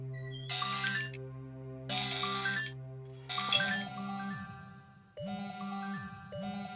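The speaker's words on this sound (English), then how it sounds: "we also got a phone call pretty soon" A telephone rings inside a horror-themed video game, sounding as repeated tonal ring bursts with short pauses over steady in-game music, loud and close.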